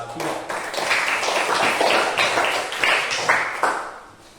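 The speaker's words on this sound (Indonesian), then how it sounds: "kita berikan tepuk tangan untuk kelompok 3" A class of students applauds group 3 after its presentation in an arts and culture lesson. The clapping is steady, dense and close, runs for several seconds, then fades toward the end.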